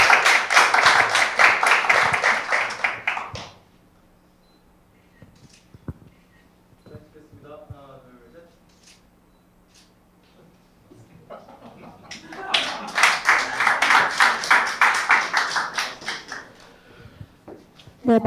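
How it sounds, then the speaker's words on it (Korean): Audience applause for an award-winning team at a Korea University startup event, with two bursts of clapping separated by a quiet stretch of speech, the clapping fairly loud and filling the room. "큰 박수 부탁드립니다."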